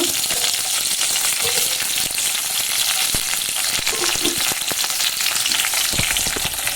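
Green chillies frying in oil in a pan on a lit stove, a loud, steady crackling sizzle with occasional sharper pops and stirring knocks, close up, no voices.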